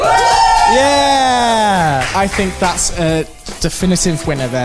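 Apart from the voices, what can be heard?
audience cheering for the best-wrapped Christmas present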